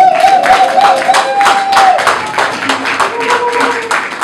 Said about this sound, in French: Est-ce que tu peux acclamer pour ce Jésus-là?